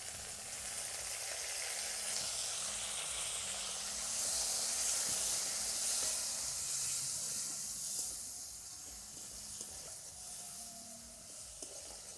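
Chopped tomato fries with ginger and bay leaves in a pan, giving a steady broad sizzle and hiss that swells in the middle and eases toward the end, close and continuous, with no voices.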